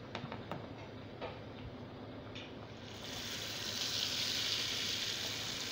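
Akara bean fritters drop into hot palm oil in a pan, a few soft ticks giving way to a rising, steady bright sizzle that holds loud and close through the second half, with no talking.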